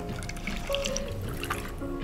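Fresh orange juice poured over ice for a vodka screwdriver, a soft steady liquid trickle and splash running close and continuous, with faint clinks mixed in and no talk.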